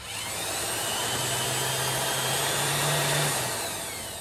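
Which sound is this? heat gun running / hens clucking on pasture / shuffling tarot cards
heat gun running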